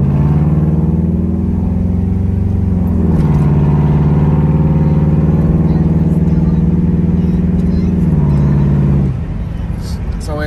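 A vehicle with a 4R70W automatic transmission, showing vehicle speed sensor symptoms, drives onto a highway with a loud, steady engine drone that rises in pitch as it accelerates, then drops as the transmission shifts.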